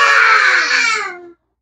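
A child lets out one loud, drawn-out roaring cry that fades and cuts off, a young voice imitating a lion's roar.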